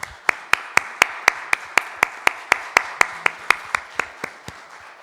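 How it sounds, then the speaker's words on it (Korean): A church congregation applauds in praise to God at the close of a Palm Sunday service, giving steady, rhythmic, unison claps at an even tempo, about three per second, loud and sustained. "하나님께 영광의 박수 올려드리겠습니다"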